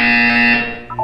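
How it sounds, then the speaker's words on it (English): A sustained electronic buzzer tone in Portal 2 rings loud and steady for most of the second, then fades into short chirping tones. "You will hear a buzzer. When you hear the buzzer, look up at the ceiling."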